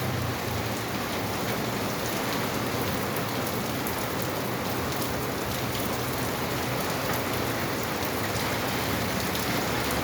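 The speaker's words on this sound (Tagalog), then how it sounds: "Grabe ang ulan, guys. Lakas." A storm in Cavite brings a steady downpour hissing and drumming on surfaces, constant and near, with nothing else heard.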